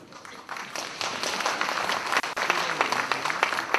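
Audience applause at a book-launch concert for a politician's book, a dense crowd of clapping hands sustained across the whole stretch with a few sharper claps standing out, fairly near and steady.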